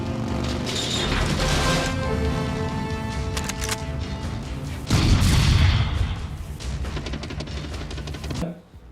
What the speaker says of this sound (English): the way Arnold reloads that shotgun